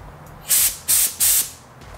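Three short, loud hissing bursts from a spray can of clear coat, evenly spaced about a third of a second apart, close up against a quiet room.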